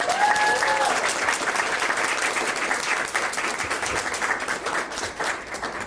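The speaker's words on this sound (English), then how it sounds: "Let's give Angelique a round of applause" Audience applause fills a room at a Salem climate event supporting the student climate strike, steady dense clapping from a crowd lasting throughout, loud and close with no talking.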